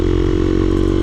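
Kawasaki KLX300SM supermoto motorcycle engine running close and loud, a steady, even drone with no clear revving for about a second.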